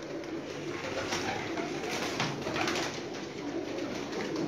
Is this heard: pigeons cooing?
yes